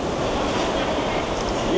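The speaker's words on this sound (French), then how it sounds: "c'est marrant ici parce que c'est toujours venteux. Il y a toujours une petite brise là." Steady wind and sea breeze on a beach at Koh Samet, a continuous broadband rush with soft surf underneath, holding even in level throughout with no voices standing out.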